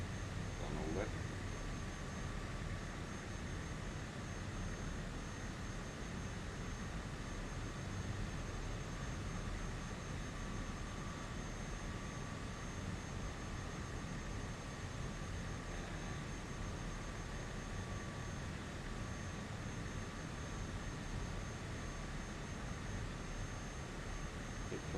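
Steady aircraft engine drone during flight in a flight simulator group event, a constant broadband roar with a faint tonal whine that holds evenly for the full length, with a voice occasionally talking over it.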